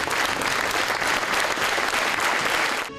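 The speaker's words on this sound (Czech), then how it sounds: "kterou sál přivítal dlouhým potleskem" Long, steady applause from a hall audience at a sports gala in Zubří, welcoming seven-time Olympic champion Věra Čáslavská, dense clapping sustained at full strength before ending abruptly.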